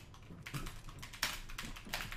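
A computer keyboard typed on during a gaming session, with quick uneven bursts of close, soft key clicks and brief pauses between them.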